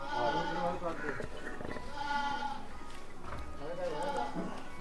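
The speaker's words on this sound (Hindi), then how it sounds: "और एक बकरा आ रहा है लेके आइए" Gangapari goats at a livestock gathering in Shamli, Uttar Pradesh, with a young buck being brought forward; bleats rise repeatedly amid busy talk and crowd noise, fairly close.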